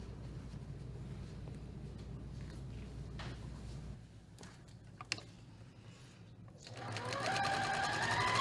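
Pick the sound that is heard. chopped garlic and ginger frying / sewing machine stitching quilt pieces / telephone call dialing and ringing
sewing machine stitching quilt pieces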